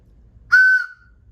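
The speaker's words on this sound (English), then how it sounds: "1 whistle for no, 2 whistles for yes" A single short steam engine whistle, a clear bright tone lasting about half a second then trailing off, loud and alone against a quiet background.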